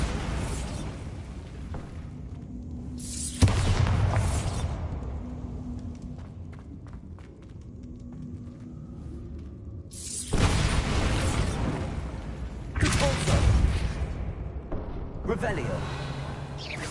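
Bombarda spell explosions in Hogwarts Legacy on the hardest difficulty: several loud, broad blasts come in separate bursts with quieter combat sounds between them, and a voice shouts spell names over the fight.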